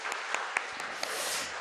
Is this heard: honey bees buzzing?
no